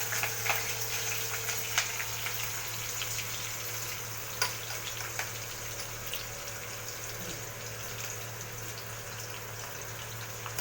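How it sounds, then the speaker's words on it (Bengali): Chopped onions sizzle in hot oil in a pan, a steady close hiss with scattered small pops and crackles, heard alone with no talk and a low hum underneath. "পেঁয়াজগুলো এবার লাল করে ভাজবো, রেড হবে।"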